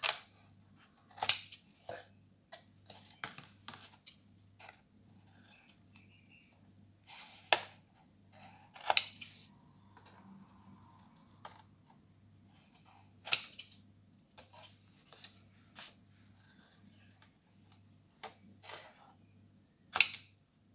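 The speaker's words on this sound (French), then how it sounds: "je vais prendre mon ciseau et je vais faire des petits angles ici" Scissors snip small corners in paper while a flipbook is made, a scattered series of sharp, crisp cuts with irregular pauses, close and clear over a faint low hum.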